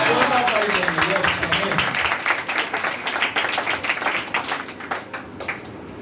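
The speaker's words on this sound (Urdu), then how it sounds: "زوردار تالی دیں گے" Church congregation clapping loudly together during a Passover sermon, a dense burst of applause that starts strong and gradually thins out over several seconds, with a voice speaking over it.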